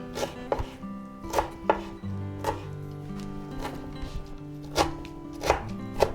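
A knife chopping through sauerkraut on a cutting board for vinaigrette salad, a series of about a dozen sharp close knocks in uneven rhythm over faint background hum, no talk.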